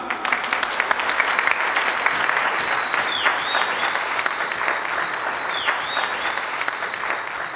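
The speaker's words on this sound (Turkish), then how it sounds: "Şimdi bu gecenin en kuvvetli alkışını rica ediyoruz sizden" An audience welcoming a singer on stage breaks into sustained, strong clapping with a couple of sharp whistles rising above it, steady and close for several seconds.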